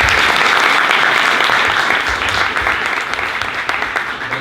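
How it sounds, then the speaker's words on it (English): Audience at a talk in Paris warmly applauding to welcome Ariel Diaz, founder of Boundless, a loud continuous wash of clapping hands that tapers slightly toward the end. "please give a huge round of applause to Ariel"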